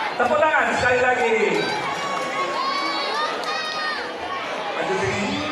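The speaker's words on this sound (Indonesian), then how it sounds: "Tepuk tangan sekali lagi." A school crowd at an Isra Mi'raj religious assembly claps again, loud dense applause that eases slightly after the first second while excited youthful shouts and chatter ring out on top.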